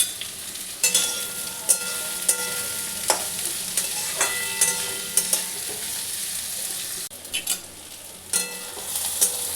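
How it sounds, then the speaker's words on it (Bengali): Chopped onions fry in hot oil in a pan, a continuous close sizzle broken by repeated scraping stirs, with no voices. "তেলটা আমার গরম হয়ে গেছে। এতে আমি পেঁয়াজটা ঢেলে দিচ্ছি।"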